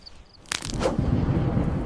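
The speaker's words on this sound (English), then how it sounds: "The rain was so strong," Heavy rain pounding a tent at night during a storm: near-silence, then a sudden loud burst that gives way to a steady, dense roar of rain close around the tent.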